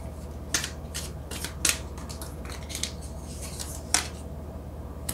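Tarot cards slid and pulled from a deck, giving a few short, crisp papery snaps and rubs over a steady low hum, fairly quiet and close.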